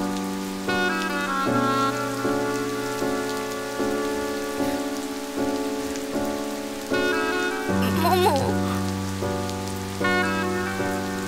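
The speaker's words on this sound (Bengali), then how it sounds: "বৃষ্টি পড়ছে।" Steady rain falls in an even, continuous patter that runs throughout, mixed under a soft melodic music bed with sustained tones.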